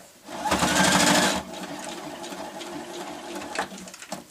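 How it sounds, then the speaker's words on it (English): A sewing machine runs a quick burst of a few stitches through the centre of gathered lace and ribbon pieces on a patchwork cosmetic bag, a close, steady whirring rattle that stops after about a second, followed by quieter room noise. "And then just put a few stitches with the machine in the centre to hold all of those together"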